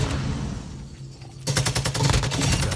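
Rapid bursts of video game gunfire from Call of Duty: Modern Warfare 2, starting as a faint rattle and then turning into loud, dense automatic fire with a steady rhythm for the rest of the moment.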